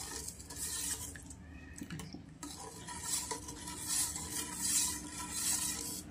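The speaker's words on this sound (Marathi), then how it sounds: "त्याचे ना ही साखर आपण हलवून घेऊयात अशी बारीक। साखर वितळून घेऊयात ह्याच्यातली।" Sugar being stirred in a pan as it melts, with a spoon scraping and clinking against the metal in a steady, continuous rhythm, close and moderately loud, no voices.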